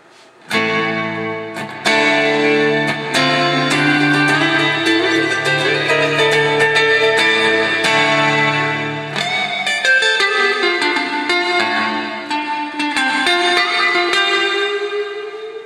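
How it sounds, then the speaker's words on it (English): Electric guitar through an Electro-Harmonix Holy Stain pedal on hall reverb, playing sustained chords and ringing notes with a long, spacious reverb tail; loud, continuous, and alone. "Now it's on hall reverb."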